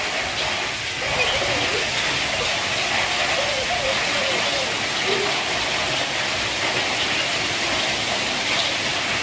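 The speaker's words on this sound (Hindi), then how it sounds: "ये हमारी छत पर बहुत तेज बारिश हो रही है, आप देख रहे हैं।" Heavy rain with hail drums steadily on a rooftop, a thick unbroken wash of sound, while someone speaks now and then over it.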